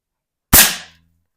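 A single sharp crack of a BB gun fired at five pumps into a cardboard backstop box, loud and close, with a short fading tail and no talk.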